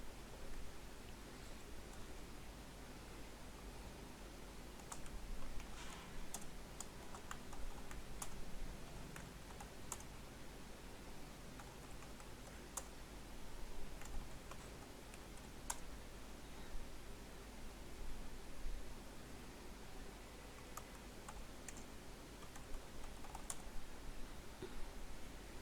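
Computer keys click quietly and irregularly during a Microsoft Word session, scattered soft taps over a faint background hiss with no voices.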